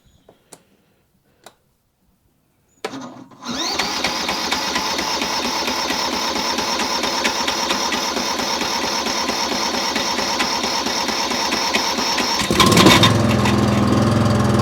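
An Atco ride-on lawn mower, pulled from a scrapyard, cranks once on a jump pack and fires into a loud, steady close idle with a ticking clatter, then revs up slightly near the end.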